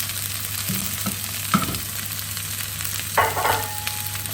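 Ray fish and leeks frying together in a pan on low heat: a soft, continuous sizzle with a couple of brief louder crackles as pieces settle, heard up close with no talking.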